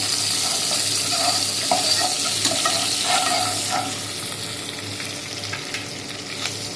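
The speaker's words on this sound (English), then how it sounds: "chili, finely chopped garlic. Stir it for some time." Chili and finely chopped garlic stir-fried in hot oil in a pan, with a steady bright sizzle broken by repeated scraping strokes of a spatula, loud and close, with no one talking.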